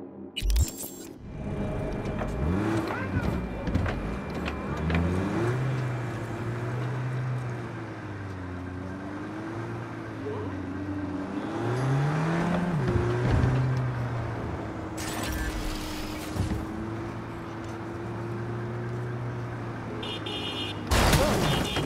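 Small car driven in Cyberpunk 2077, a steady low engine drone with shifting pitch as it speeds up and slows, punctuated by a few brief loud bursts of other game sounds, no talking.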